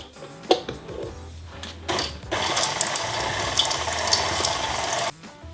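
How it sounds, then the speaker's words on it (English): Chopped chocolate being stirred into sourdough cookie dough in a bowl, close clattering scrapes at first, then a sustained churning, gritty mixing noise that cuts off near the end. "mix that just until it's combined"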